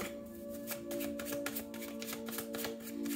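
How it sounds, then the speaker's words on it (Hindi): Tarot cards being shuffled up close, a continuous run of crisp riffling flutters under a steady low hum. "तो चलिए शफल कर लेते हैं मिथुन राशि जेमिनी साइन के लिए।"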